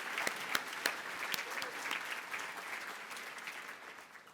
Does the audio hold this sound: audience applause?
yes